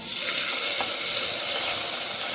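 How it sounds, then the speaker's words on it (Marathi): Garlic fries in hot oil with a steady, dense sizzle that holds close and even throughout, with no voices over it. "लसूण थोडीशी चांगली भाजली पाहिजे तेलामध्ये"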